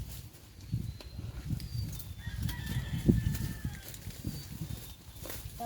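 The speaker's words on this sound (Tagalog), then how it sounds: "Naririnig ko na yung mga manok." Chickens and roosters on a family farm field, with clucking and crowing calls rising from a steady low rustle of footsteps and outdoor noise, moderately distant.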